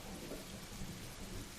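Steady rain pours down with low rumbling thunder underneath, a faint, even wash of a rainstorm with no voices.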